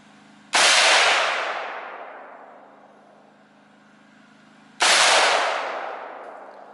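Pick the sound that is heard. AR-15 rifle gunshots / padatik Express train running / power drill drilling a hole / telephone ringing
AR-15 rifle gunshots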